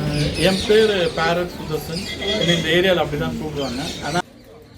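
A huge flock of parrots, thousands strong, gathering at a daily feeding spot: a loud, dense, continuous chorus of overlapping chattering and squawking calls close by, cutting off abruptly near the end.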